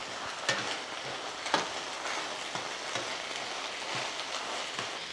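Chorizo sizzling in a pan, a steady low frying crackle with a few sharper pops and spatters spaced through it, close and fairly quiet, with no talking.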